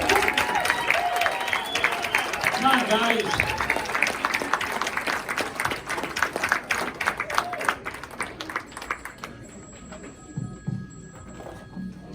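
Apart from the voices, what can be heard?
applause for a band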